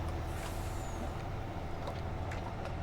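A truck hitched to a trailer rumbles steadily close by on a farm, with a low engine drone throughout and a brief hiss of air brakes over it.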